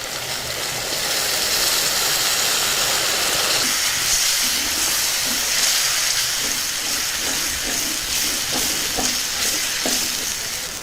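Soaked tamarind juice poured into a hot tempering for an elephant yam gravy sets off a loud, close, continuous hissing sizzle and steam rush, with faint stirring clicks toward the end.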